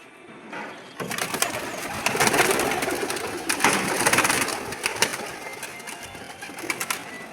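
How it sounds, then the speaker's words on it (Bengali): Pigeons on a rooftop under open sky, with flapping wings and soft bird calls; a busy, close burst of wingbeats and rustling starts after a quiet first second and keeps going, with scattered louder flaps. "নীল আকাশ, পায়রাগুলো কি সুন্দর উড়ছে।"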